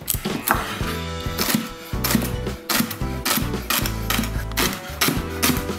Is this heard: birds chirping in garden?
no